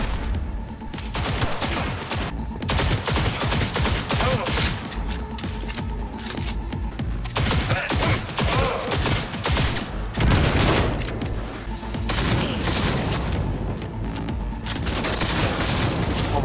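Sustained gunfire from a weapon in the video game Cyberpunk 2077: rapid, dense bursts of shots and booms that continue almost without pause, loud and close.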